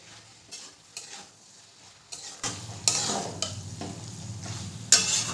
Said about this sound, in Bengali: চিকেনটা দিয়েও ভালো করে মিশিয়ে নেব।